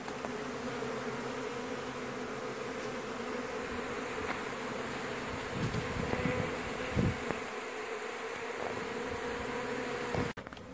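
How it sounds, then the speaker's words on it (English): A dense swarm of honeybees buzzes steadily around a hive at a mobile home, with individual bees droning close past now and then and occasional bumps and handling noises, ending in a sharp thump. "the bees are orienting to this hive very well"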